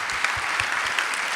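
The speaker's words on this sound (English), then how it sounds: "And a big applause for our guest as well." Audience applause for a guest at an international architecture festival session, steady dense clapping from a crowd with no talk.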